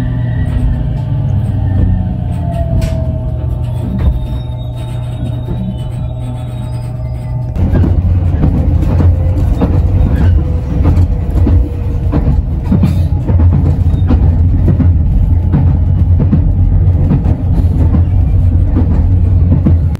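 A steady low rumble from inside the carriage of the Maizuru limited express train in Japan, arriving at Nishi-Maizuru station, with faint rhythmic clicks and a shift in tone partway through.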